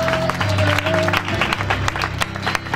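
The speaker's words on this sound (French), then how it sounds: "Il faut l'applaudir très fort, s'il vous plaît." Audience at an orphanage inauguration ceremony applauds with a fairly loud patter of clapping that swells and fades, with some voices mixed in.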